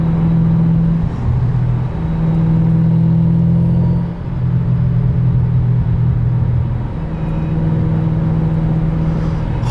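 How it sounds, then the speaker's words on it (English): A turbocharged car running about 25 PSI of boost rumbles loudly nearby. Its deep engine note swells and dips between several steady stretches. "Owner also told me he's pushing about 25 PSI from the turbo"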